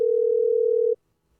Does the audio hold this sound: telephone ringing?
yes